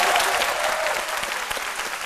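Studio audience applauding a singer on a live Ivorian television broadcast, a dense, steady wash of clapping that holds throughout without voices.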